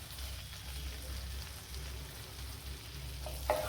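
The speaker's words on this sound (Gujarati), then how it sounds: "જીરું થોડું તતળે" Cumin seeds sizzling in melted butter in a pan for paneer bhurji, a soft steady frying crackle with a low hum underneath and a small clink near the end.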